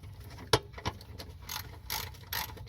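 Ratcheting wrench loosening the last driveshaft center support bearing bolts on a Volvo 740, several short clicking pawl strokes in quick bursts with brief pauses between, close and fairly quiet.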